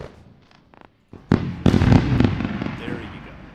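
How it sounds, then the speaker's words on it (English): A fireworks sound effect: a few faint early pops, then a loud burst of crackling explosions and sizzling bangs that tail off gradually. "Not before we do a round of fireworks."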